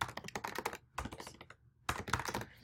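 Rapid bursts of typing on a computer keyboard, close and clear, in three clusters of quick key clicks separated by short pauses while a search word is entered, with no talking.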